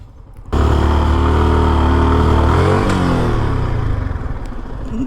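A Yamaha R15 V3 motorcycle engine roars loud and close after a brief quiet start, revving hard and steady as the wheel spins in sand, then the pitch dips and wavers before the engine keeps straining.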